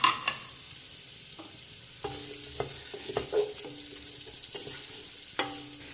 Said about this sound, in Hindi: प्याज डाल देती हूँ। इसको लाइट ब्राउन करना है, ज़्यादा ब्राउन नहीं करना।